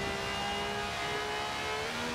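Lamborghini Sesto Elemento engine in Forza Horizon 4 drones steadily at high revs, a loud continuous whine with no breaks throughout the short stretch.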